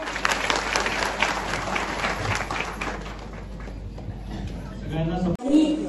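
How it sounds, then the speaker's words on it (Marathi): An audience at a readers' gathering in Buldhana gives a strong, sustained round of clapping that gradually thins out, then a voice starts speaking over the last moments. "एकदा जोरदार टाळ्या झाल्या पाहिजे."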